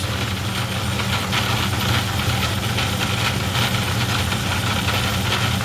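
A Craftsman 109 metal lathe takes small cuts on metal while its motor runs with a continuous, close mechanical hum and an even drone of vibration, and no one speaks over it.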